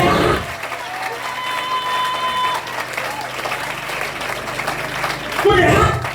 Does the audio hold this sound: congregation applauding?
yes